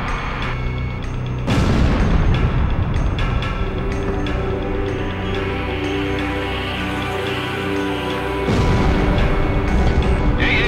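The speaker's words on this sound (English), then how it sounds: "They're just tossing bombs all over the place." Bombs explode again and again during a city air-combat mission in the flight game Ace Combat: The Belkan War. Heavy booms and rumbling blasts run continuously and loudly over a game score, with fresh surges near the start and end.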